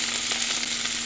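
Fresh mint and coriander leaves sautéing in a hot pan for a mint chutney, a dense continuous sizzle heard up close and fairly loud, unbroken and without any talking.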